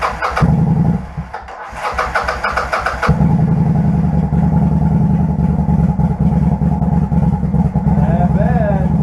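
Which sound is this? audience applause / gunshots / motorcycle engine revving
motorcycle engine revving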